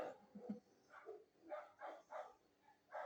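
A small dog barks in short yapping bursts as it passes along a road outdoors, several quick barks spread across a few seconds at moderate distance.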